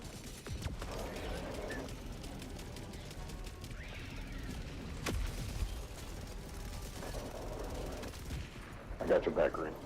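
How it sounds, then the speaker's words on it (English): Gunfire from an Eruptor weapon aimed at a Hive Lord in a video game, loud repeated bursts and blasts mixed with dense battle noise throughout, with a heavier cluster of shots near the end. "So we're shooting at the Hive Lord with the Eruptor."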